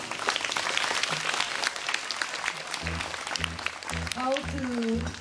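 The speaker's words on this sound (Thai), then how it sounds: "ขอเสียงปรบมือให้กับน้องชายมันด้วยครับ" An audience applauds a singer, a steady wash of clapping running throughout, with a voice talking over it and a brief sung or drawn-out vocal tone near the end.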